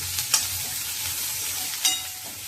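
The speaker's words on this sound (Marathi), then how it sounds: "कांदा आपण चांगला परतून घेऊया." Chopped onion sautéing in a pan for a leafy vegetable dish gives a steady, close sizzle, with a couple of sharp scraping clinks from stirring.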